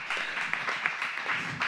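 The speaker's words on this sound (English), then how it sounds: "That deserves a round of applause." Brief burst of audience clapping after a world-record mention on a travel show, dense and fairly even over under two seconds with no voices.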